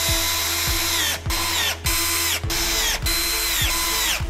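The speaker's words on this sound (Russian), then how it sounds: "Мастер на видео использует шуруповерт." A cordless screwdriver drives screws into a double bed frame during assembly, whirring loudly and steadily with the pitch dipping under load and brief pauses between bursts, close up with no talking.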